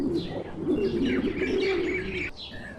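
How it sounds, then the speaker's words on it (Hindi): Pigeons coo softly and steadily at close range, a low, rolling, murmuring call that carries on for a few seconds. "कबूतर जमीन पर उतरने लगे।"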